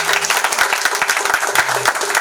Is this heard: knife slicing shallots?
no